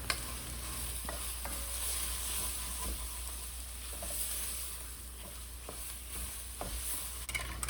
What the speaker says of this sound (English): stir that all together and toast the tomato paste